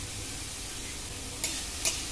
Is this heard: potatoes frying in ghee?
yes